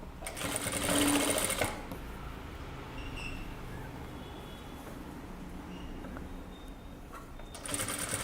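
A sewing machine stitches a kurta with a brief loud whirring burst at the start and another at the end, separated by quiet room tone.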